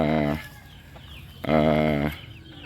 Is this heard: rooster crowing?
yes